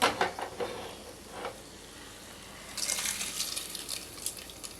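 Hot tempering for pongal hits the pot with a sizzle: a few clinks and splashy bursts at first, a quieter gap, then a sustained bright crackling hiss.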